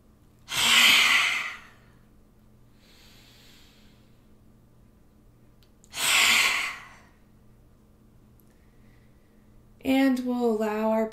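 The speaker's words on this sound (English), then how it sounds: "making a noise that sounds kind of like a lion roaring" Two forceful, breathy yoga lion's-breath exhales, tongue out, each lasting about a second with a long quiet pause between them, followed by a spoken voice at the end.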